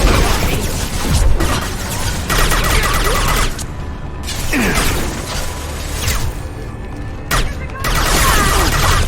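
Samara fires her rifle in Mass Effect 2 amid a loud firefight: bursts of rapid gunfire, pops and crashes over mechanical clatter, with short gaps between volleys.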